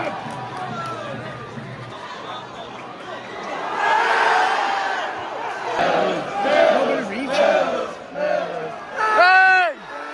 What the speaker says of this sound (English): Boos from the away crowd.